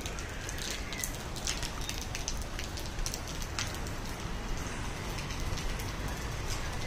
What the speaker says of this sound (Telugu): వర్షం పడుతూనే ఉందండి.